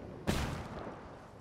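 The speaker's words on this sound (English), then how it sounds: "I'm tossing in a flashbang." A flashbang grenade going off in the Ghost Recon Wildlands video game: one sudden sharp bang that decays quickly into a fading rumble, standing alone without talk.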